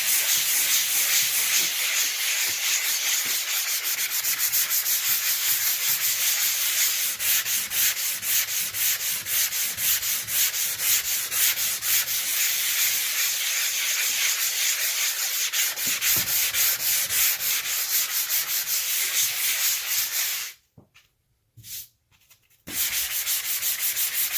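Steady abrasive scraping of sandpaper over a dried spackle patch on a wall, a continuous close rasping hiss that runs for about twenty seconds before briefly stopping, then resuming at the end.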